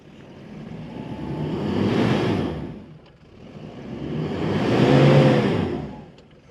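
A Toyota Hilux Black Edition grinds off-road in 4LO with the diff lock engaged, its engine swelling and fading in two slow, strained surges over rough terrain, moderately loud with wind-like rumble.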